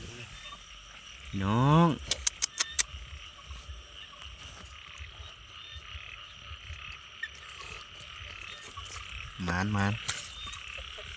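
Male frogs croaking at night, two loud rising-and-falling croak bursts standing out near the start and again near the end over a constant insect-like background hum, with a few brief spoken words in between.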